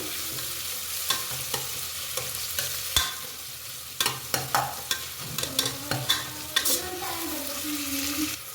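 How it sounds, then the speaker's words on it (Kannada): Onions fry in a pan, a steady sizzle punctuated by a series of sharp spatula scrapes and taps that grow quicker and denser in the second half. "ಈರುಳ್ಳಿ ಎಲ್ಲ ಫ್ರೈ ಆಗಿದೆ"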